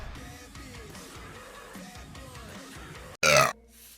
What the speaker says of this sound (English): Rate my burp.